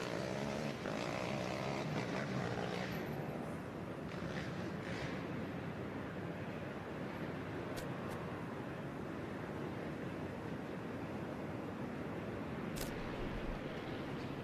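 Propellers of a Yamaha live camera drone buzz steadily over an off-road race, an ATV Ironman round, a continuous broadband whir with wind-like roar throughout, fairly even in loudness from start to finish.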